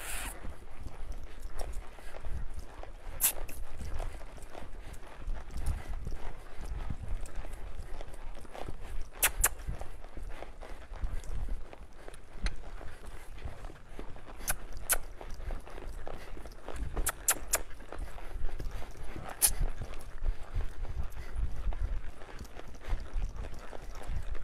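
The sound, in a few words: horse hooves while gaiting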